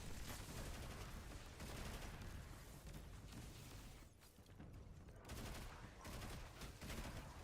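Rapid, dense SMG fire in a video game, sustained bursts pouring out almost without pause, loud and close, with one short lull midway before the shooting resumes.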